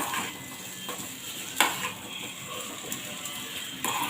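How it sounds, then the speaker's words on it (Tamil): Potato masala stirred in a pan, a steady scraping and sizzling bed with a few sharper clinks of the spoon, close and continuous. "உருளைக்கிழங்கு மசாலாவை நல்லா பரட்டி விட்டுடலாம்."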